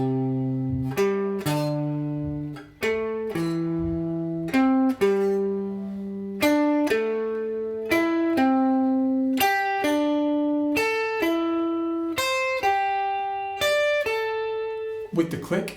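Pentatonic scale pattern played as a lead-line exercise, each pair of notes descending while the overall line climbs and falls. Clear pitched tones sound in a steady, even rhythm, with no talking over them.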